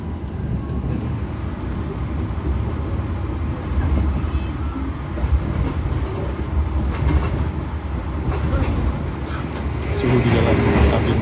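A train rumbles steadily along the rails, heard from inside the cabin, with a continuous low roar and faint rhythmic clatter, building slightly louder toward the end.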